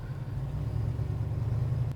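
An old Trans Am engine idles at close range with a deep, steady rumble, a low throaty drone that stays even throughout with no voices.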